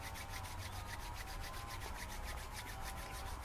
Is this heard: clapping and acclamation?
no